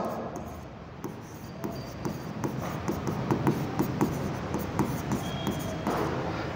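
Marker or chalk writing on a board during an accounting lesson: a steady run of short scratching strokes at close range, with little talk over them.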